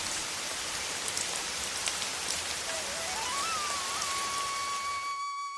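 Steady rain falls over farm fields, a dense, even hiss of drops that stays loud and constant throughout, with a thin sustained tone rising in near the end and no voices.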